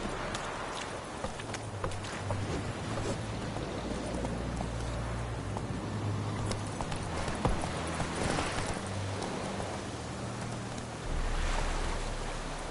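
Horse hooves clip-clop steadily during riding in a PS4 video game, set against wind and surf-like ambience with a low engine-like drone, no talking.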